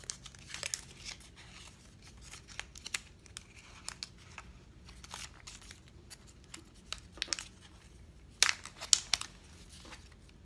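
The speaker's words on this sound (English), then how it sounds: "Let's take this paper off." Protective paper peels off a new Apple Watch Nike+ Series 3 during unboxing, in soft crinkling and tearing bursts with a louder rip near the end, close and quiet.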